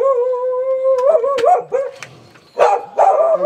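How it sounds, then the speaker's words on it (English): A dog at the front door of a house barks and yips, starting with a long drawn whine and then sharp, loud, close barks in irregular bursts. "Sorry about the dog."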